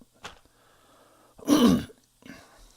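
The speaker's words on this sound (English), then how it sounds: "I'm coughing a lot this morning." Close, loud throat clearing and a harsh cough from a man at home in the kitchen while he cooks bacon, a short rasp first, then a strong burst midway and a softer rough sound near the end.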